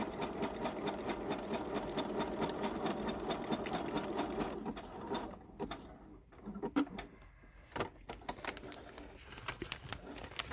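A sewing machine stitches pockets in close, rapid runs of whirring needle strokes that later break into short start-stop bursts separated by quiet pauses, with no talking.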